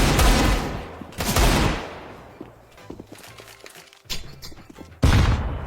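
Pistol gunfire in a video game, several sharp loud shots spaced irregularly with brief rattling bursts and thuds between them.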